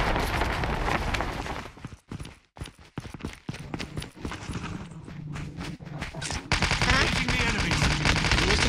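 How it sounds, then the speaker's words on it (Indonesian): Enemy gunfire in Call of Duty Mobile battle royale: dense, rapid bursts of automatic shots with brief gaps, then heavy continuous firing toward the end, loud and close. "Oh, dia lagi nembak."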